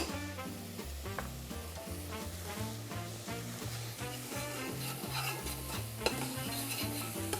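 Onions, ginger and garlic stir-cooking in a pan for a chutney sauce, a steady close sizzle with scraping stirs, partly covered by music playing throughout.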